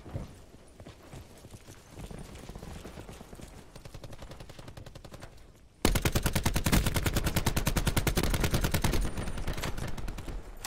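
Rapid automatic gunfire from the Call of Duty Blackout battle royale game, with steady bursts that jump sharply louder about halfway through and continue as a dense, rhythmic stream of shots with no talk.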